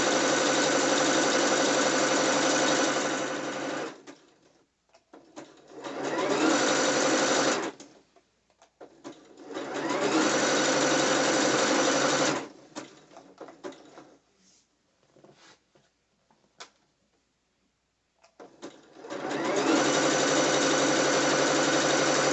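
A sewing machine stitches a lined thong bikini in several long, steady runs of rapid mechanical whirring, loud and close, separated by pauses with faint handling noises.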